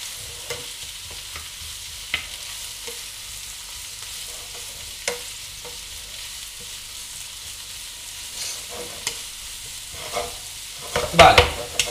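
Eggplant pieces and vegetables sizzle softly in a frying pan while a utensil stirs them, scraping with a few sharper knocks near the end, close and without speech.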